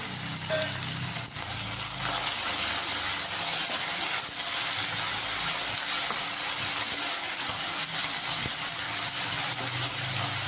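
Steady crackling sizzle of spices tempering in hot oil for egg curry, close and continuous, with faint clicks and no talking.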